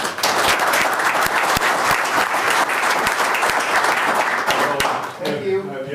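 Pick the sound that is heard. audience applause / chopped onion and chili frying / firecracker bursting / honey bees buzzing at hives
audience applause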